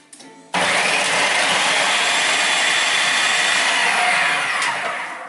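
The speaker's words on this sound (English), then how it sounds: "So onions in the blender." A blender chopping onions and garlic whirs loudly to life and runs at a steady high-pitched roar for several seconds, winding slightly down near the end.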